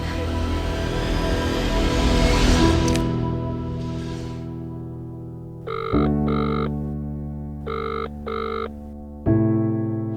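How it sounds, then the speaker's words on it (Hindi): A telephone rings in repeated double bursts, loud and close, after a stretch of muffled background noise; nobody answers. "ये फोन क्यों नहीं उठा रही है?"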